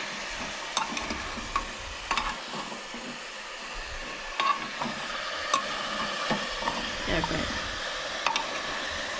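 Vegetables for pav bhaji sizzle in a pan while being stirred, a constant frying hiss broken by repeated sharp scrapes and clinks of the utensil against the pan.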